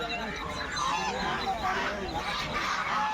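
Domestic geese honking at a village poultry market, repeated nasal honks from several large birds close by over a busy crowd murmur, with voices talking in the background.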